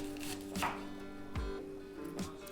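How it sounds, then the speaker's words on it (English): Knife chopping a white onion on a board: three slow, spaced strikes over a low steady hum. "I'm going to start with just chopping up a white onion"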